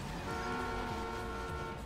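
A car horn in the video game GTA Online sounds a sustained, steady honk under a constant engine drone, loud and near for the whole short moment.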